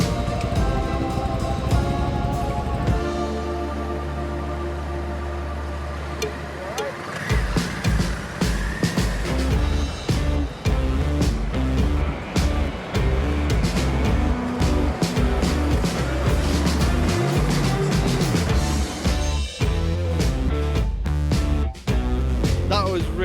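Honda Africa Twin and CRF 300L motorcycles ridden on an indoor show track, with an engine idling and then revving and accelerating, its loud, busy mechanical roar continuing through most of the clip.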